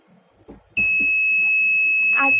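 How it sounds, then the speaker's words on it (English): An IoT-enabled fire alarm buzzer sounds a loud, steady, piercing tone that starts abruptly after some brief speech and holds continuously to the end, close to the microphone. "As soon as the temperature crossed 28 degrees Celsius, the buzzer started buzzing."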